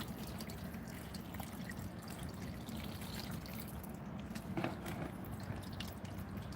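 Water pours steadily into a prospecting machine, filling it to cover the pump and overflow, a soft continuous trickling and splashing with no voices.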